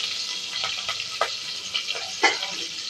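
Onions fry in a pan for a mutton intestine curry, giving a steady close sizzle with several brief spatula scrapes and stirs spread throughout.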